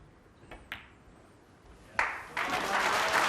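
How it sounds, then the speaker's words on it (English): Crowd applause at the 2012 World Snooker Championship, Ronnie O'Sullivan versus Peter Ebdon, swelling suddenly after a few soft knocks of balls and growing into a loud, sustained ovation. "For the round of applause"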